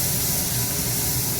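A fish head frying in a pan for a stalk and potato curry, a loud, steady sizzling hiss with no break over the short stretch.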